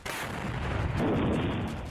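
Dense, continuous barrage of gunfire and heavy explosions, loud and relentless, with a booming surge partway through; no voices.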